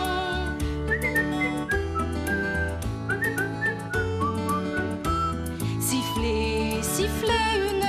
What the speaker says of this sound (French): Siffler une chanson.